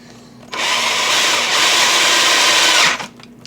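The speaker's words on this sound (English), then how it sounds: "This is a 5/8 drill bit that is cut way too sharp for plastic" A power drill with a 5/8-inch bit whirs steadily for about two and a half seconds as it bores through a plastic box, close and loud, then winds down.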